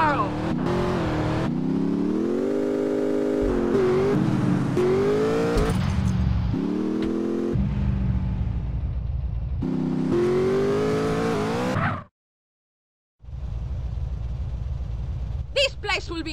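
Car engine revving and accelerating in the video game GTA San Andreas, loud and continuous, with pitch rising and falling as the car drives, layered under game dialogue and music, then a brief silent gap before it resumes.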